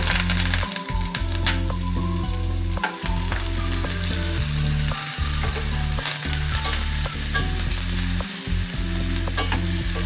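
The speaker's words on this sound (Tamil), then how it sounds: "வெங்காயம் கொஞ்சம் நல்லா வதங்கி வரட்டும்" Onion, fennel and green chillies sauté loudly in hot oil in a pan. A dense, continuous sizzle and crackle runs throughout, with occasional stirring scrapes and no gaps. No voices are present.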